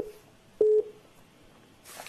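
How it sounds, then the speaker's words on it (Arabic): Call waiting tone on a phone line: a single short electronic beep rises briefly from a quiet, hissy line, followed by faint background noise and a burst of static at the end. "عشان في تليفون تاني عندك عامل ويتنج انت"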